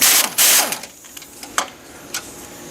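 A ratchet wrench with an extension loosens 18mm bumper bolts on a 2015-17 Chevy Silverado 2500 pickup, giving a few quick bursts of clicking followed by sparse, fainter metallic ticks.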